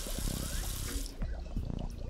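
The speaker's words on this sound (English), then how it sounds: "You're wasting water, Finn." A running tap in the PS4 game Adventure Time: Finn and Jake Investigations gives a steady splashing rush for about a second, then cuts off, leaving soft game sounds.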